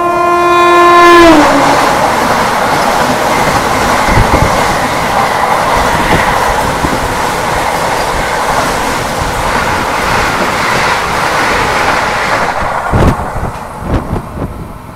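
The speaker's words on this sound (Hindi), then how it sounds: "तो यहाँ पर अभी हमारी क्रॉसिंग हो रही है वाराणसी नई Delhi orange reverse Vande Bharat express के साथ" Vande Bharat Express trains crossing at speed on an Indian main line: a loud two-tone horn opens, then a continuous rushing roar of passing coaches with rapid wheel clatter, fading near the end.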